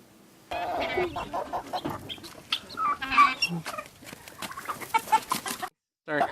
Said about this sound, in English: Farmer Jim will give us an update on our Kookaburra chickens